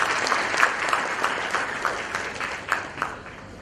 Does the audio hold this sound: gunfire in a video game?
no